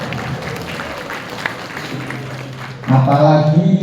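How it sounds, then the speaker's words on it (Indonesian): Staff and lecturers of a university law faculty applauding at a campus grand opening event, a moderate clapping wash that swells louder near the end, with voices audible in the room. "Tepuk tangan untuk Fakultas Hukum."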